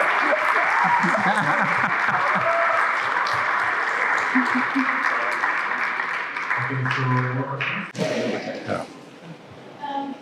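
An audience of students claps throughout a university conversation event in Karachi, a dense steady round of applause that thins out toward the end, with scattered thuds and nearby voices.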